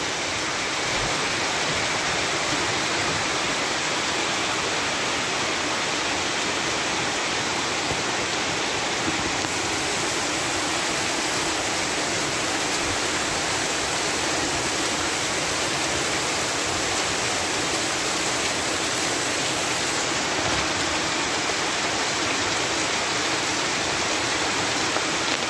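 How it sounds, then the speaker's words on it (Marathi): Heavy monsoon rain pours down steadily while runoff streams across soaked ground, making a dense, constant, loud hiss with no pauses. "पाऊस आहे म्हणजे जमीन पूर्ण ओली होऊन आता पाणी वाहत आहे वरचं"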